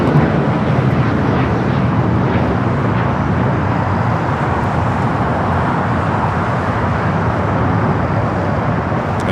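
A Boeing 747-8 Intercontinental, nine years old, arrives at LAX on runway 24 right, a loud, steady broadband jet roar that holds constant throughout with no talking.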